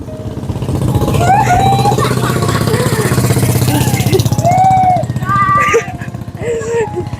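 A motorcycle engine runs at a steady idle close by, a loud continuous throbbing mutter that holds for several seconds while people talk and call out over it.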